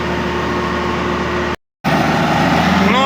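A John Deere 2264 combine engine runs with a loud, steady low rumble, cuts out briefly for a moment, then resumes with a rising whine over the drone.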